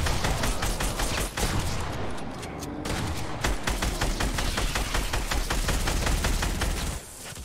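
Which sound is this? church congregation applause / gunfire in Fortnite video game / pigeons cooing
gunfire in Fortnite video game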